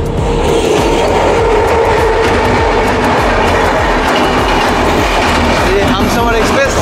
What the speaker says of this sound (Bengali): আমাদের ট্রেনের সাথে দেখা হতে চলেছে 22888 এসএমবিটি বেঙ্গালুরু হাওড়া হামসফর এক্সপ্রেসের সাথে